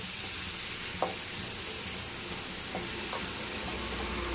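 Ground red chili paste for pandu mirchi pachadi cooks in a pan with a soft, steady sizzle and hiss, broken by a few light stirring scrapes, with no talking.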